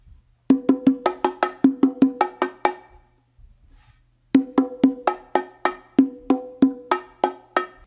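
Bongos played in a hand-to-hand coordination exercise, two rounds of quick evenly spaced strokes with open tones, close and clear, separated by a short pause.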